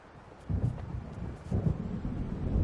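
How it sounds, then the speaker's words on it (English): Low rumbling thunder from an approaching storm in the video game Alan Wake Remastered rolls in two swelling waves against a quiet background, with a faint hiss of rain or wind and no voices. "It seems there's a storm coming."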